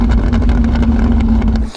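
A Lamborghini Aventador SV Roadster's 750-horsepower engine roars loudly and up close in a steady drone with rapid pulsing, then cuts off abruptly at the end.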